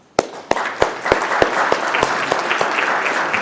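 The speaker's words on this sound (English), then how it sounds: "I want to give them an applause and thank Mike Whitrock and thank Nick" An audience at a basketball hall of fame ceremony breaks into applause, starting with a few sharp, distinct claps that quickly swell into steady, sustained clapping from a crowd in a hall.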